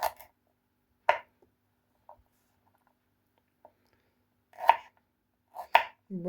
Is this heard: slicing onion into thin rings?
yes